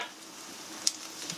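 An herb galette frying in olive oil, a soft, steady sizzle with fine crackles and one sharp pop partway through, heard alone without talk.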